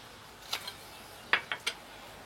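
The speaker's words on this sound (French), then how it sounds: "Manivelle et je serre." A crank wrench tightens brake caliper nuts on threaded studs greased for a brake pad check, giving a few sharp ratcheting clicks: one pair early, then a quicker burst of three, close and fairly quiet against a hushed background.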